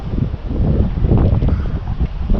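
Steady coastal wind buffeting the microphone while sea fishing on the Holderness coast, a continuous low rumbling roar that runs throughout at moderate loudness.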